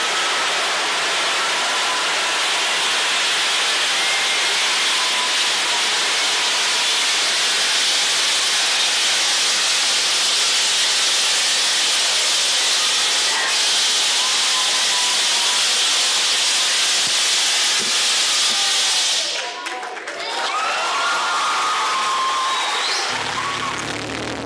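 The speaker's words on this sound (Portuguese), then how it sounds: "Segurando pela empunhadura, retiramos o difusor e apontamos em direção à base do fogo. Depois é só apertar o gatilho." A fire extinguisher discharges in a loud, steady hissing blast that runs for about twenty seconds, then cuts off abruptly and leaves quieter background noise.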